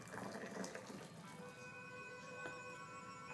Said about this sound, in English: we will put boiling hot water into the teapot